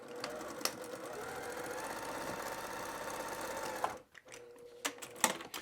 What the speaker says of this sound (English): I'm a big fan of always double stitching my box corners